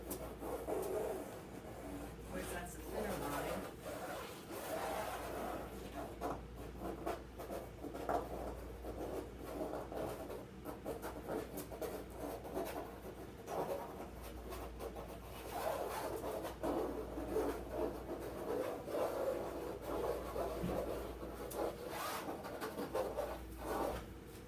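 A graphite pencil scratches and rubs marks onto an abstract painting surface, a continuous close, soft scraping texture with short strokes throughout and no talk.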